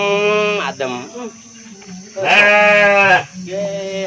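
Sheep bleat loudly and close by in a village pen, several long wavering calls in a row with short gaps between them and a quieter rumble underneath.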